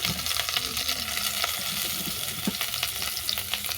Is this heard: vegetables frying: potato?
yes